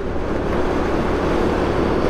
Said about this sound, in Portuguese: Agora aí não tá batendo, mas tá forte o vento.